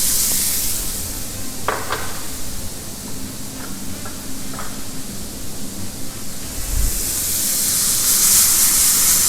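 Prawns sizzling in butter with lime leaves in a pan, a steady close frying hiss with a few brief stirring clinks and no talking.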